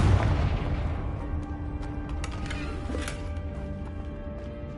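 A Confringo fire spell in the Hogwarts Legacy video game lets out a heavy, booming blast that opens loud and then dies into a rumbling decay, with a few fainter crackling bursts after it.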